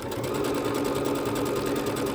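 Bernette B-77 sewing machine stitching out decorative stitch 158, a fast even whirring rattle of the needle close up, steady and uninterrupted.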